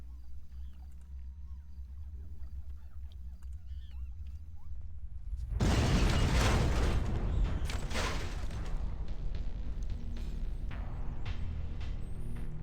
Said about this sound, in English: I'll just detonate it from here.